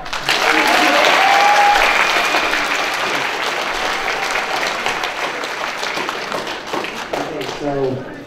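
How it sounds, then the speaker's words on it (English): A Bronycon 2014 convention audience at the Journey of the Spark panel claps loudly and steadily, with a few cheers, before the applause thins out and a voice begins over the tail end. "Clap if you love Journey of the Spark"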